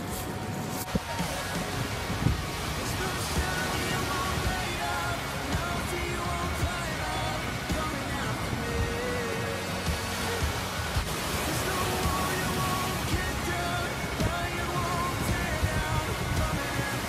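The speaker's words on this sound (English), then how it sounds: "And the waves are super big today." Big waves on Lake Michigan crash and wash continuously, a loud dense roar of surf filling the shore with faint voices beneath.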